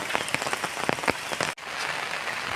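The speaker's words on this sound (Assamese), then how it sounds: "আজিৰ বৰষুণটো বহুত ডাঙৰকৈ দিলে" Heavy rain pours down in a dense, steady hiss of drops hitting surfaces nearby, with heavier splatters on top and a brief dropout midway before the downpour resumes.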